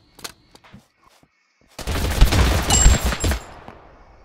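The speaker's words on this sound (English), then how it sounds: "Some dude is shooting me. Stop shooting me!" Gunfire in the video game Totally Accurate Battlegrounds crackles in a dense burst of rapid shots lasting under two seconds, preceded by a few sparse, faint pops.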